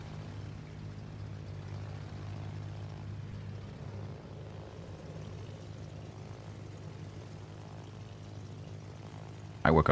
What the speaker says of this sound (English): I like a plane-related noise.